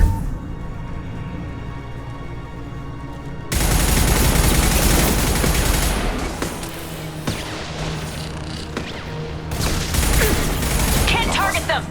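Overridden turret firing in the Mass Effect 2 video game: a dense, loud burst of rapid gunfire that kicks in suddenly, continues amid mechanical clatter and other battle sounds, with game voices heard.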